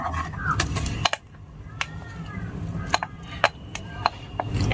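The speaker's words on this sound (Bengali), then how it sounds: "অনবরত এইভাবে নাড়াচাড়া করে মিশ্রণটিকে জাল করে নেব 5 থেকে 6 মিনিটের মতো" A semolina and milk mixture is stirred in a pan, with irregular spoon scrapes and clinks against the metal cookware over a soft background.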